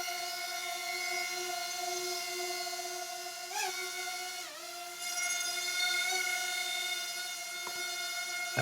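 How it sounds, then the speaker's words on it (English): A small drone starts up and hovers with a steady high-pitched harmonic whine of spinning rotors, close and continuous, its pitch briefly rising and dipping as the motors adjust, with no talking. "So I start the drone up here."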